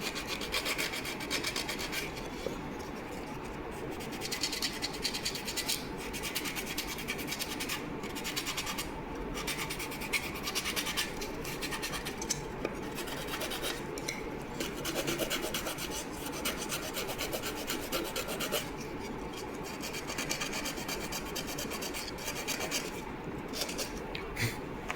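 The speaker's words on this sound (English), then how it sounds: "Do little bit of sanding to merge the slope of the fuselage with" Close, quiet rasping of sandpaper on balsa wood as an exhaust ring is blended into a model Tejas fuselage, in steady back-and-forth strokes with brief pauses.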